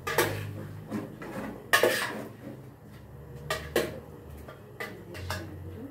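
A spoon clanks and scrapes against a pot while feijoada is stirred, irregular metallic knocks and rattles close up, with no talking.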